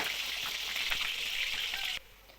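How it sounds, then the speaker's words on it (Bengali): Potatoes fry in hot oil in a kadai, a steady close hiss and crackle that drops away sharply near the end, with no speech. "আলুগুলো একদম লাল কালার করে ভেজে নেবো"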